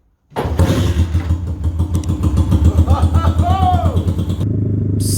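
A 1973 Honda CL350 cafe racer motorcycle engine catches on the first kickstart and settles into a steady, loud, close idle with a throbbing low pulse. Brief tonal whines come and go over the running engine.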